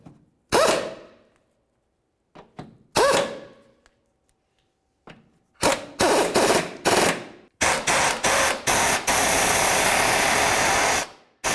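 A power tool drives in the rear engine mount bolts on a 2002-2006 Honda CR-V: a few short ratcheting bursts, then several rapid rattling bursts and one long sustained run, loud and close with pauses between.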